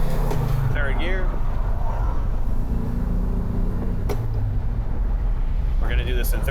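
A 1968 Volkswagen Karmann Ghia cruising in third gear at about 48 mph, its engine and road noise a steady low drone with bumps, while someone talks over it.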